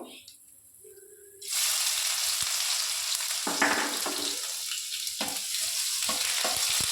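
Dried red chilli, black cumin seeds and garlic hitting hot oil, setting off a sudden loud continuous sizzle that holds steady with light stirring scrapes underneath.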